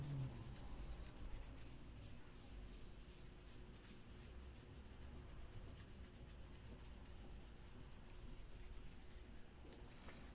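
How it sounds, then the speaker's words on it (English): Steady rubbing of a copper CPU heat spreader being scrubbed with Flitz metal polish, a continuous close, gritty friction texture with no speech, running without pause for the full length. "You just keep going, just keep scrubbing"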